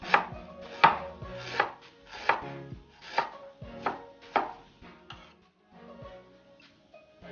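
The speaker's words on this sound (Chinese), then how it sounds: "准备点大葱和姜切成丝" A knife chops scallion and ginger into shreds on a cutting board: about eight crisp, evenly spaced chops close to the microphone, then a few softer taps, with no talking.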